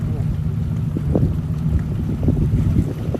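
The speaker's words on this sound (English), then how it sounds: "This is the Ukrainian boat Barracuda, which hunts, rescues, and changes the rules of military operations on water." Ukrainian unmanned surface boat Barracuda, developed by marines of the 40th Separate Coastal Defense Brigade, running on open water: a steady low engine drone with wind buffeting the microphone and faint water noise throughout.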